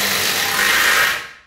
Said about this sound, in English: I'm going to whiz that screw in now.